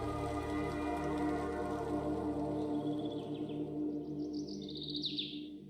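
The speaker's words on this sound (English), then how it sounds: "the birds had suddenly started chirping" Birds chirp at dawn in an animated horror story, with faint high tweets rising late in the clip over a steady low drone and hum.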